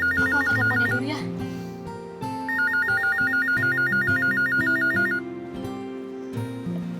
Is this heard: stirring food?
no